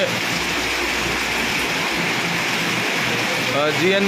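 Heavy torrential downpour roaring steadily like rushing water, a dense continuous wash of rain close by, with no voices heard.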